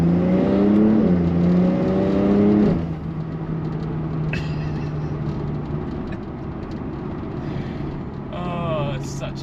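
A Porsche 911 Turbo S (992.1) with a flat-six engine revs hard and climbs in pitch, then drops to a steady, lower drone of road and engine noise as the car cruises on, with a brief rev near the end.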